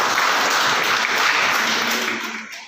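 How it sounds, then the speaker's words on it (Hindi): An audience at a children's brain development seminar at a school in Mathura claps in a loud, dense, continuous burst that tapers off toward the end. "तालियां हो जाएंगी।"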